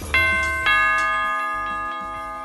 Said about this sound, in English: Let's see who's ding-donging that doorbell